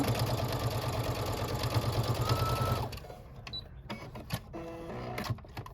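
Sewing machine running in a steady rapid whir as it stitches quilt block squares together with a quarter-inch seam, stopping after about three seconds, followed by faint fabric handling and light clicks.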